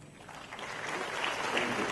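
Audience at a book release event featuring Amit Shah gives a round of applause, fairly faint and distant, swelling slightly toward the end.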